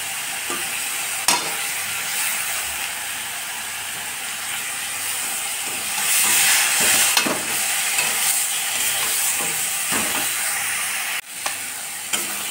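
Chopped tomato and onion fry in a pan with a constant close sizzle. Sharp clicks and scraping strokes of a spatula break through, and one brief louder surge of frying stands out.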